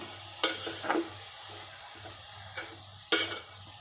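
Finely chopped beetroot sautés with softened onions in a pan for a beetroot poriyal, a low sizzle under several sharp spatula scrapes and clinks against the pan, with no talking.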